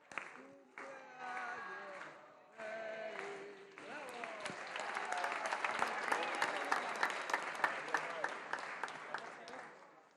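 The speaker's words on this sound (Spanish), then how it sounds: "Un aplauso al compañero vicepresidente." A legislative assembly session erupts into sustained applause from many people, starting as scattered voices and claps and swelling into a dense, steady ovation that fades slightly at the end, with speech mixed in early.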